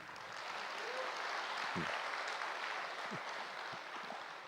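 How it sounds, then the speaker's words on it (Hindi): An audience at a spiritual talk claps loudly and steadily, with a dense, even wash of clapping and a few louder close claps. "जोर से ताली बजाइए."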